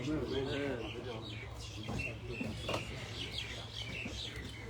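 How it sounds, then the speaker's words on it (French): Small birds chirp outdoors in scattered, faint tweets behind someone speaking close by, with the calls poking through his talk now and then. "Vous entendez les oiseaux là? Ils sont en train de dire des choses."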